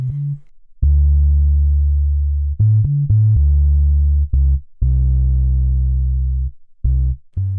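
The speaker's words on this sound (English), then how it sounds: "Lowering the threshold, you'll begin to hear a buzzy effect created by the super fast settings." A sustained low tone is passed through the HoRNet MulticompCM compressor plugin with very fast attack settings and a lowered threshold, giving a buzzy distortion. It plays loud and close as a series of held notes with short gaps between them.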